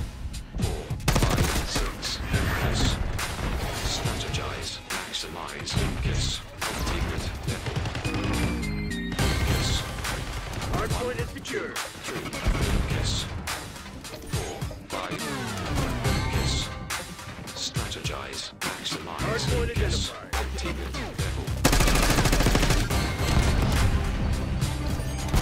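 Dense, sustained gunfire from the video game Black Ops 6, rapid overlapping shots and bursts with loud impacts and crashes running almost continuously and close up, with brief dips between volleys.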